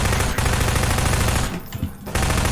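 Rapid submachine gun fire from enemy soldiers in Half-Life 2, loud and continuous in a dense burst that breaks off briefly before resuming.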